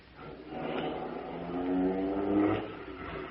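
A getaway car pulls away from the curb outside a bank, its engine revving and rising in a steady, close surge with no voices over it.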